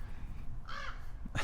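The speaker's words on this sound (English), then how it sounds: "Look at those crows" Two crows cawing outdoors, a harsh call near the middle followed by another starting at the end, moderately distant over a low background rumble.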